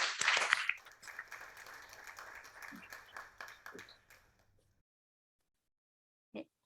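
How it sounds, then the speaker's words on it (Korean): Audience at a Korean community policy lecture in Sydney claps to welcome a speaker to the stage, a brief loud burst that thins out and fades over several seconds before silence. "올라오실 때 큰 박수로 맞이해 주시기 바랍니다"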